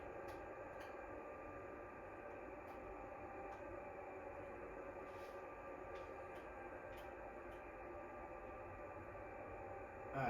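A freight train in Train Sim World 2 on Sherman Hill rumbles steadily at low speed as it comes to a stop, with faint periodic clicks over a continuous mechanical drone.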